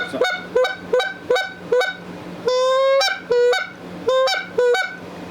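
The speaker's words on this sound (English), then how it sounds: "That sounds like a goose." A short-reed goose call blown in a rapid series of loud, close honks, about ten sharp goose-like notes with one longer drawn-out honk in the middle, no talking.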